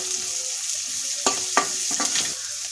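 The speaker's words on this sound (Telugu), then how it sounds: "ఇప్పుడు కూరకు సరిపడినంత ఉప్పు పసుపు వేసాను. బాగా తిప్పేసుకోవాలి." Onions frying with salt and turmeric, stirred in a pan: a faint steady sizzle and then four distinct scraping strokes of the spoon in quick succession, close by, no talking.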